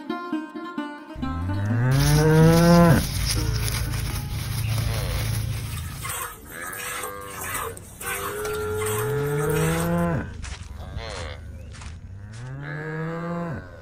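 Cattle mooing in an animated drama, several long, loud, drawn-out moos one after another across the scene, the calls overlapping with a busy background and no talk.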